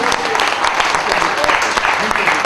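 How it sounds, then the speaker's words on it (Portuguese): Congregation applauding during a church service, a dense, loud, sustained wash of many hands clapping with no pauses, close and filling the whole moment. "Levanta o Senhor uma salva de palmas, meu irmão, minha irmã, em nome de Jesus"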